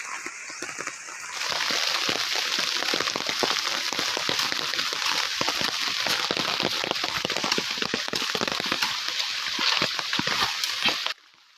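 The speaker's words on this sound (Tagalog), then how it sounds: "Sa kasamang palad, umulan na naman." Steady rain patters and splashes on a surface during copra making in a rural province, a dense crackling wash that continues for several seconds before cutting off.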